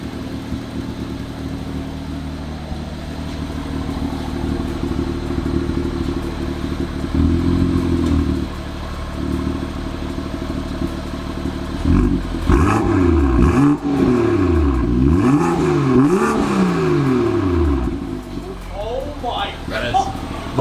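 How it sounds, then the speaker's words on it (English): BMW M2 F87 fitted with a Wagner Tuning sport cat downpipe, idling then revved hard several times in loud bursts, with people talking over it. "What if I rev it?"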